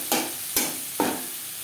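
Chopped onions fry in a pan for snake gourd fry, a steady hiss broken by three sharp scraping stirs at even intervals, close and without talk.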